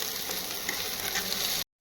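Pointed gourd and onion frying in a pan, a continuous close sizzle with light stirring scrapes that runs steadily and then cuts off abruptly near the end.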